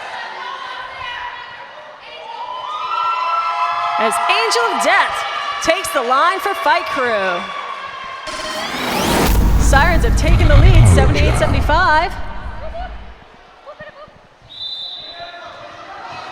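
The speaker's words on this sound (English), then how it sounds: "I hear many, many whoop whoops from the crowd." Crowd whoops and cheers rise during a junior roller derby bout between Fight Crew and Sirens, swelling loudly midway under an announcer's ongoing commentary in a reverberant venue.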